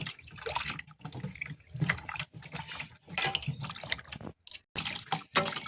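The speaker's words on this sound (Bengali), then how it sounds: "গরম জল আর লবণ দিয়ে মাছগুলোকে বেশ করে চটকে চটকে ধুয়ে নেব" Live singi catfish scrubbed and rinsed by hand in hot salted water, with close splashing, dripping and sloshing in irregular bursts, loud and alone without talk.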